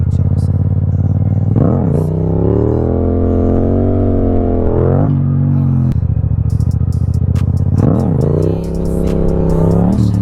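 A Yamaha MT-07 motorcycle revs hard in first gear at a Polish stunt spot, its engine repeatedly climbing to a loud sustained high note, dropping, then rising again, very close.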